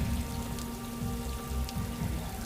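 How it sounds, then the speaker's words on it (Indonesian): Heavy rain pours down in a steady, dense hiss of drops striking a surface, continuous and close throughout, used as a sound effect in a narrated mystery story. "Tidak peduli hujan mengguyur kami."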